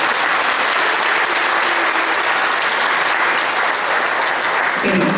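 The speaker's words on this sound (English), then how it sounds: "Give your guys another applause" An audience applauds students after a high school wind ensemble and concert band performance, dense continuous clapping filling the hall without a break.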